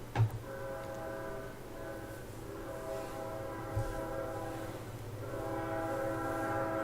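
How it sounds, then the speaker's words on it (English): A train horn sounds in long sustained chords over the low rumble of a passing train, fading briefly before blaring again. "I think we're going to actually get two trains here."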